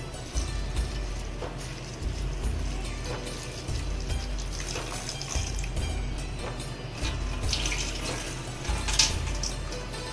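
Running tap water pours over fresh mint leaves in a kitchen sink, a continuous close splashing with handling sounds as the leaves are rubbed and rinsed.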